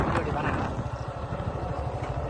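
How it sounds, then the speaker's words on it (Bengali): A motorcycle is ridden along a rural road, its engine giving a low, pulsing drone that runs steadily through the short stretch. "কিভাবে বাইক চালাচ্ছে।"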